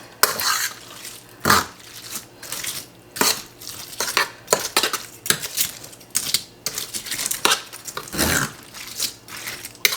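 Spoon scraping and clinking as ingredients for a holiday side dish casserole are mixed together in a dish, a busy series of close, irregular scrapes and knocks with brief pauses and no talking.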